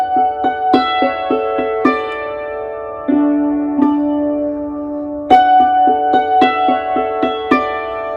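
The tune Golden Slippers is played on a hammered dulcimer, with bright, ringing struck notes in a lively rhythm, each decaying into a sustained shimmer, alone and close.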